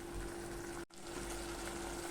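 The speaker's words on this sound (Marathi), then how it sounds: "आता याच्यात आपण गरम पाणी ओतून घेणार आहोत।" Hot water pours into a pot of prawn pulao with a continuous gushing splash and a faint steady hum, close and quiet, with a brief dropout partway through.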